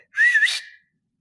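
A person whistles a single short rising note, clear and close, imitating a call, lasting under a second.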